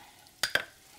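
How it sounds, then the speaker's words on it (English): Whisking flour into melted butter in a pan for béchamel, two quick close scraping strokes, faint and brief, with no talking. "you just want to whisk that in and it will become a paste"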